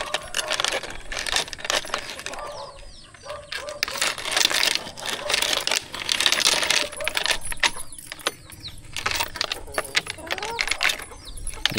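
Keys and a padlock rattle and jangle up close in a busy run of metallic clinks on a chicken farm, with voices talking in the background.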